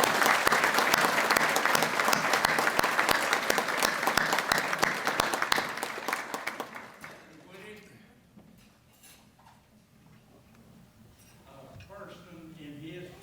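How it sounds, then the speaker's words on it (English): Loud audience applause fills a hall at a university sports hall of fame induction ceremony, sustained for about six seconds before tapering off to a quiet room with faint voices and scattered sounds. "Let's give Mr. Johnson applause."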